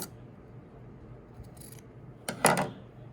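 Shears trimming the fabric corners of an invisible zipper bag at the seam, a couple of faint snips followed by one louder, close crisp cut near the end.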